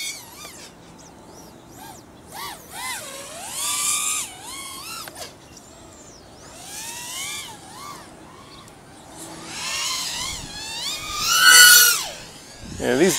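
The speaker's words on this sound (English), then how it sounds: "these props are pretty loud" A 4-inch racing drone's propellers whine in flight, rising and falling in pitch with throttle bursts, sometimes distant and then sweeping loudly close by, with a fierce screaming peak near the end.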